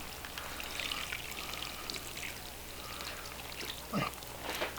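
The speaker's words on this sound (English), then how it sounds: "you're going to want to water these in real good" Water pours and splashes onto potting soil while potted strawberry runners are watered in thoroughly. A steady, soft patter runs throughout, with a few sharper splashes near the end.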